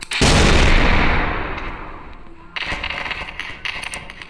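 A loud, booming video game skill explosion bursts out and slowly rolls away, followed by a stretch of crackling, popping debris.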